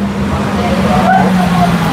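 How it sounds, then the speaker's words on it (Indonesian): Traffic rumbles past close by on a roadside street. Motorbikes and cars make a steady, fairly loud wash of engine and tyre noise, and someone talks over it. "Ini suara motor, suara mobil ada di sini semua."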